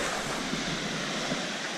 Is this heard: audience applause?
no